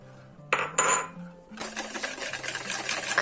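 Whisking crepe batter in a bowl while flour is spooned in, giving a couple of sharp clinks followed by a steady, busy scraping and tapping of the whisk against the bowl, close up with no talking.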